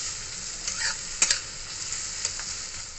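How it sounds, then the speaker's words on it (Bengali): Onions fry in a pan with a pinch of sugar, giving a continuous moderate sizzle with a few sharp clicks of stirring and no talk. "আমি পেঁয়াজটাকে একটু লাল লাল করে ভেজে নেব"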